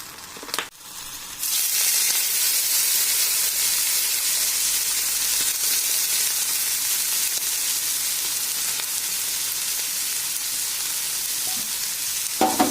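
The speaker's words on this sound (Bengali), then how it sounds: "মাছটা একটু হালকা করে ভেজে নেওয়া হবে তাই একটু দিয়ে দেওয়া হচ্ছে সর্ষের তেল" Dried fish frying in mustard oil begins after a short clatter, then gives a loud, continuous sizzle and crackle close up, with occasional stirring scrapes and no talk.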